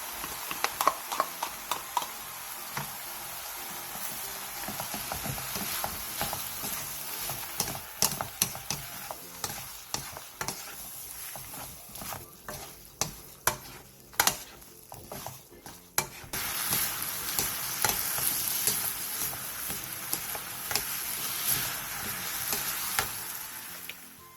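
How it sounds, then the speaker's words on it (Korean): Glass noodles and beef stir-fried with japchae sauce over medium heat in a pan, a steady close sizzle with irregular scraping and clacking of a utensil, the frying hiss rising louder toward the end; no talking. "중불로 줄인 뒤 당면과 세미네 부엌 잡채 소스 반컵을 넣고 골고루 어우러지게 볶아주세요"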